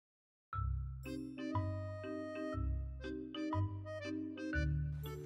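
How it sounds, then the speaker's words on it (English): A ship's bell in the Sea of Thieves video game rings out in about five loud, clear metallic strikes, each tone ringing on and overlapping the next, with no talking. "Let's go ahead and ring the bell, signifying we're gonna leave the port."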